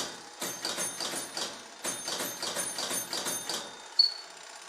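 Faint, rapid mechanical ticking of a fire alarm box signal at a fire station comes in two rhythmic bursts separated by a brief pause, followed by a short high beep.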